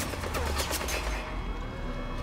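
Gunfire in the online multiplayer of Metal Gear Solid V: The Phantom Pain, a quick burst of several loud close shots in rapid succession that stops abruptly, leaving a dull game-ambience hum.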